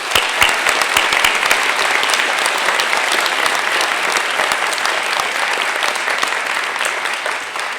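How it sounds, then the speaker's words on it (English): A college academic and leadership awards convocation audience applauds the award recipients, steady dense clapping from a large crowd that continues at a fairly even level throughout. "Let's give them one more round of applause."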